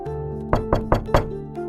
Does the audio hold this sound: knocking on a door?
yes